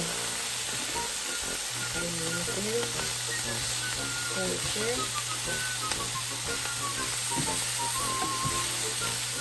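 Beef steak frying in a pan gives a steady, loud sizzle throughout, with intermittent scraping and stirring clatter and a sustained low hum underneath.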